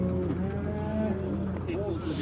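Cattle, including young bulls, at the Karakol livestock market, lowing in drawn-out moos close by over a busy crowd murmur, no clear talk.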